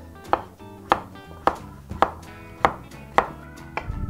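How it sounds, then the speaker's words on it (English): A knife chops butternut squash into bite-sized chunks on a cutting board, with seven sharp, evenly spaced thuds at close range and no talk. "And we're just gonna cut up into little chunks."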